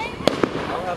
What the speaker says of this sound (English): Was that their illegal fireworks?